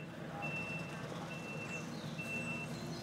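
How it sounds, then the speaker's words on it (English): A truck backs up to take on a large travel crate for a long journey, its reversing alarm beeping in a steady repeating pattern over a continuous engine rumble and outdoor background noise. "The large travel crate is loaded onto the back of the truck and secured for the long journey ahead."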